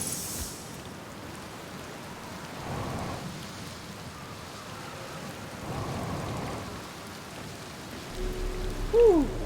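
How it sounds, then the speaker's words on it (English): Rain and thunder in the video game Outer Wilds, a steady hiss of rain with soft, low rolling rumbles swelling a couple of times, at moderate level. "It's raining sideways."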